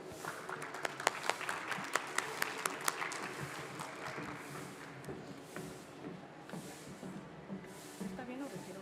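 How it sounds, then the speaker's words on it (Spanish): A seated audience at a lecture on the history of legal medicine in Mexico applauds steadily for several seconds, a dense wash of clapping that thins and fades into soft room noise. "a quien pido un fuerte aplauso"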